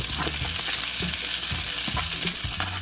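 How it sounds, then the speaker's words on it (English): Omelette ingredients sizzle in a hot frying pan alongside sharp cheddar and mozzarella, a close, continuous crackling fry broken by rhythmic low scraping thumps of stirring. "having all the ingredients sizzling on that pan and having all those flavors blend together."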